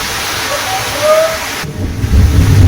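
Heavy rain pours down in a thick, steady roaring hiss that stays loud throughout, with deeper rumbling toward the end.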